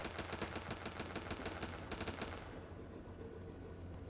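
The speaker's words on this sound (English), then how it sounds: "there's shooting going on in the north here" Rapid bursts of video-game gunfire crackle in quick volleys, dense and loud at first, then thinning into scattered shots against a faint rumble.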